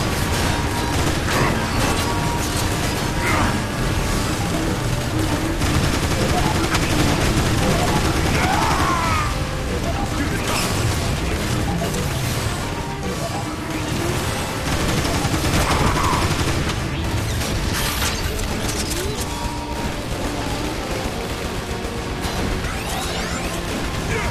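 Sustained gunfire and crashing impacts from the Transformers: War for Cybertron video game on PS3, a dense, continuous barrage of shots, bursts and smashes with scattered whooshes layered over a busy game soundtrack, loud throughout.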